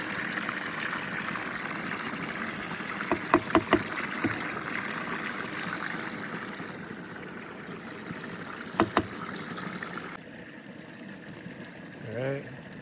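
Water steadily rushes and gushes as it washes gold-bearing dirt through a gold cube, a continuous close-up flow with a few brief clatters partway through.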